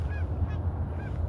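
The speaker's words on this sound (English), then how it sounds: "Been getting a lot of geese flying overhead this morning." Geese honk as they fly overhead on a morning outdoors, a few short distant calls over a steady low rumble of wind or background noise.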